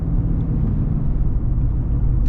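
A GMC Sierra 1500 AT4X pickup with a 6.2L V8 pulls hard under acceleration, giving a loud, steady, deep engine rumble heard from inside the cab with no talk over it.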